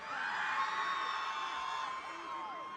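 A concert crowd at a hip-hop show in a Toronto arena screams and whoops in a loud, sustained roar of high-pitched voices that fades slightly toward the end.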